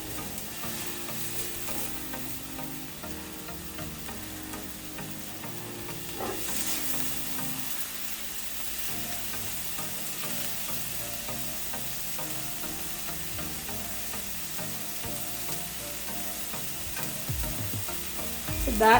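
Small-cubed zucchini fries in a pan, a steady soft sizzle with occasional scraping stirs, fairly faint and continuous with no voices.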